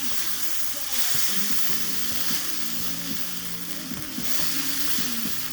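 Vegetables fry in a hot pan on a stovetop burner, giving a loud, constant close sizzle with a steady hiss throughout and occasional stirring scrapes and clatter against the pan.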